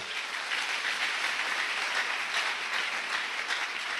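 A church congregation applauds during a sermon, a soft, steady wash of clapping heard from a distance, continuing evenly for several seconds.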